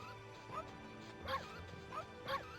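Small dog-like creature barking in the Ōkami video game, with a few short yaps spaced out over light background music.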